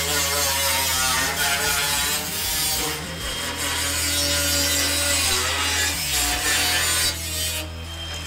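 Metal repair pieces for a Landau panel are trimmed in a busy workshop, a loud, steady abrasive grinding and rasping with a persistent low mechanical hum underneath and no talk.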